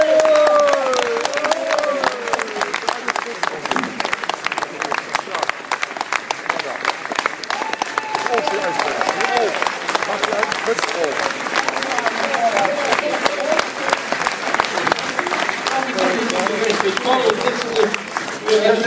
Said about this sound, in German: begrüßen Sie mit einem großen Applaus